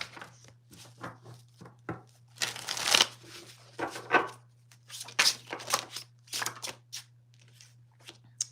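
Tarot deck being shuffled by hand, a series of quick riffles and soft card slaps in bursts with short pauses, close and clear over a low steady hum.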